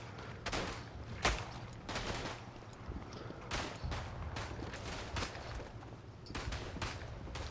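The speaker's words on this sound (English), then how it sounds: "That was a good hip fire shot there for you guys." Hip-fire gunshots from the World War I shooter Verdun, with a 1911 pistol among the weapons, sound as repeated distant-sounding shots and bursts, fairly faint over a steady background of battle noise.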